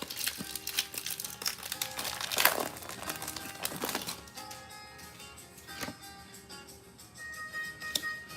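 Pokémon booster packs from a Costco bundle, Prismatic Evolutions Elite Trainer Box and booster bundle combo, are torn open by hand. Foil wrappers crinkle and rip in close, repeated bursts, loudest partway through, followed by lighter rustling.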